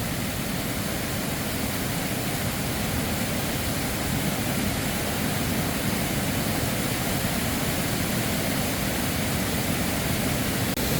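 A waterfall and its lower rapids in the bush send up a loud, steady, unbroken roar of rushing water, close and constant throughout, with no talking over it.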